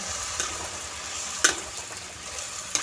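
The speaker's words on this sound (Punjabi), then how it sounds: "ਆਪਾਂ ਇਸ ਤਰ੍ਹਾਂ ਪੂਰੀ ਪਾ ਦੇਣੀ ਆ ਤੇਲ ਦੇ ਵਿੱਚ ਕੜਾਹੀ ਦੇ ਵਿੱਚ" Bhatura dough frying in hot oil in a kadhai, a steady soft sizzle and bubbling throughout with a few brief clinks or pops near and moderately loud, no voices.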